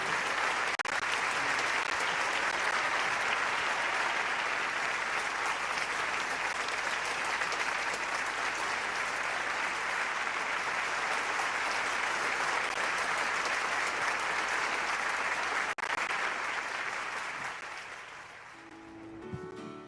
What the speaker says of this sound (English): Let us give another round of applause to Chef Ian Bok.